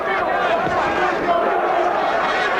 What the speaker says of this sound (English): And the chants of Lewis from the crowd.